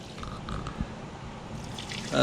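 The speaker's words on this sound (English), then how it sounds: "I'm gonna pour this out" Dirty water sucked from a GMT 400 truck's seats is poured out of a shop vac, trickling and splashing close by for a couple of seconds with a louder gush at the end.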